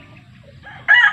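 Chickens at a poultry farm, with a rooster's crow bursting out loud near the end over a low, steady background rumble.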